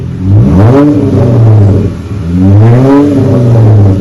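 A 2016 Dodge Charger V6 with the rear muffler deleted revs twice in long rising-and-falling sweeps, loud, raw and throaty, close by with no talking.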